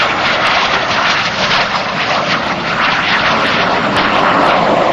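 A Fouga Magister jet roars past on a super low pass at an airshow, a loud, dense, sustained engine noise that fills the whole stretch without a break.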